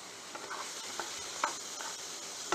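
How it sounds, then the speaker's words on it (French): Chopped onions sizzle in merguez sausage fat in a pan during home cooking, a faint steady crackle broken by a few louder scraping stirs, with no voices. "comme ça va cuire en fait les oignons dans le gras des merguez"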